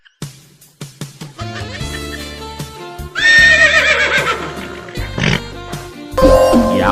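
A horse neighs in a loud, wavering whinny, preceded by several sharp knocks and low rumbling, then cut off with a brief second cry near the end.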